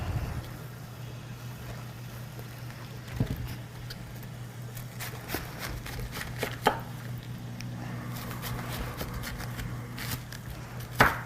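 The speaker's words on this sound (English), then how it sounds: "we're just going to take each of these wedges and cut them into 3" Knife cutting cabbage wedges into chunks on a cutting board, a few scattered firm chops and knocks over a steady low background hum, no talking.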